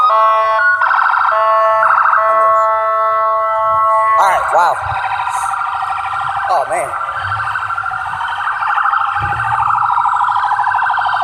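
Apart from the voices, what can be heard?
ambulance siren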